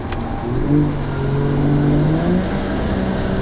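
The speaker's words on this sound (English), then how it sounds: "there's a tunnel coming up. We're gonna give it a light send through there." A home-built single-turbo 1JZ Toyota Soarer pulls hard through a tunnel, its engine note climbing steadily under load with a loud, enclosed, echoing roar heard from inside the car.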